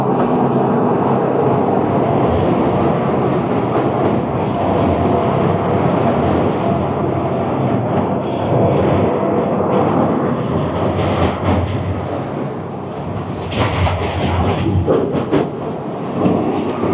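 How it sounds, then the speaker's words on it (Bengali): A mountain train near Zermatt below the Matterhorn passes close by, a loud, sustained rumble and rush of wheels on track that holds steady throughout, with no talk. "যখন ট্রেনটা নিচ থেকে উপরে কার্ভ নিয়ে উপরে উঠে আসে"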